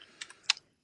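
A few quiet, clicky keystrokes on a computer keyboard come in a short, irregular burst, then silence.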